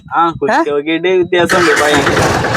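A voice talks briefly, then the engine of an Ape City Plus auto-rickshaw, just back from spring work, cranks and catches into a loud, close, rough running rumble.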